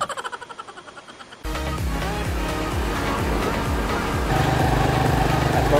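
A motorcycle carries riders with tour guides on the way to Pagsanjan Falls, its engine starting up and then running in a close, steady rumble with rhythmic pulses as it gets under way, voices talking over it.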